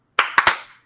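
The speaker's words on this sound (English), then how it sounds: "And we are clapping just to make sure in 3," Podcast hosts clap together to sync their recordings: three sharp, close claps, the second and third in quick succession, each ringing briefly into a quiet room.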